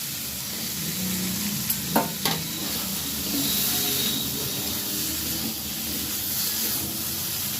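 Pointed gourd (potol) frying in spice paste in a pan, a dense steady sizzle with a couple of sharp utensil knocks early on, close and continuous.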